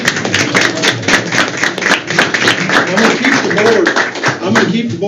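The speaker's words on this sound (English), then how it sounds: "All right, let's give these students a round of applause." Loud, steady applause from a room of people at a county board of education meeting, dense clapping with sharp individual claps on top, lasting several seconds, with voices in the background.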